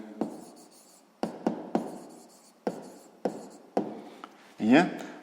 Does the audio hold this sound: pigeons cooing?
no